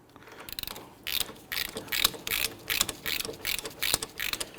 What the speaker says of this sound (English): we'll go ahead and pop our ratchet on there